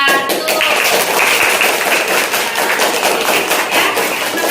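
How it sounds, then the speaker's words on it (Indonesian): A class claps for a student group during a teaching session, loud, close, continuous clapping that fills the whole stretch with some tapping texture. "Kita beri tepuk tangan kepada kelompok 1."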